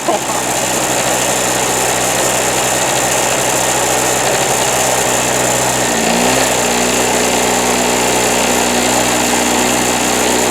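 A Harbor Freight Storm Cat 2-cycle generator engine runs loud and steady with a buzzy drone, its pitch dipping briefly near the middle before recovering.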